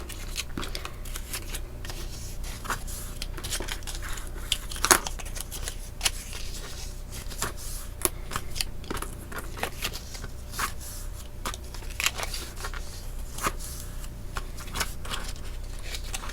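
Paper pocket pages for a medium album being creased and folded, a steady run of crisp crinkles, taps and swishes close by with short sharp snaps, no voices.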